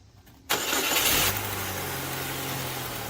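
Circle track race car engine abruptly roars to life and revs hard, loud and close, then settles into a steady, rumbling high idle.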